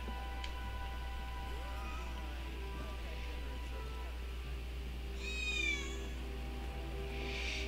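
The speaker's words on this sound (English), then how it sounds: "So first one is chasing down the cat that we found twice already." A cat in Final Fantasy VII Remake lets out a short, high meow, faint over a steady low game ambience with a soft tick early on, and no talking.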